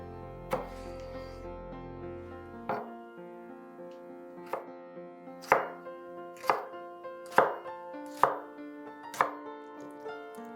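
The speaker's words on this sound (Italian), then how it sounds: "Tagliamo i pomodori" Knife chopping tomatoes on a board: a dozen or so sharp, evenly spaced cuts ring out alone, growing slightly louder, after a short low tonal opening.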